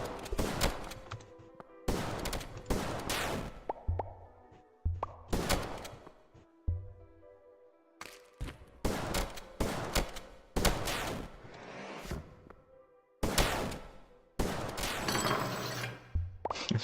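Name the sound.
shotgun firing pellets at enemy in indie video game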